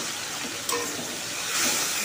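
Spice paste poured into hot oil over fried chopped tomato gives a steady, close hiss and sizzle that grows slightly louder toward the end.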